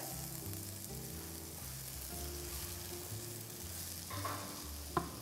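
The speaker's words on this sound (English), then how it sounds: "We're going to caramelize them. So just on low heat, they are going to caramelize and change in color." Onions caramelizing in a pan over low heat, a steady soft frying sizzle running throughout at a moderate level, with a brief clink near the end and no talking.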